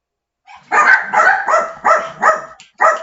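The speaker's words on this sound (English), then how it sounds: "Sorry about the dogs barking." Several loud, close dog barks in quick irregular succession, sharp and yappy, with no talking.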